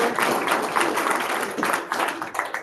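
An audience at a candidate forum breaks into a burst of applause, dense close clapping for a few seconds that thins out toward the end.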